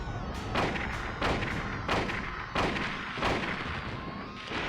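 Gunshots in the survival horror game Silent Hill boom out as a steady series of about seven heavy, evenly spaced reports, loud and close against a constant background drone.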